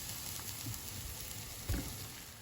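Minced meat seasoned with salt and pepper browns in a frying pan for lasagne, giving a faint, steady sizzle with a couple of soft stirring knocks.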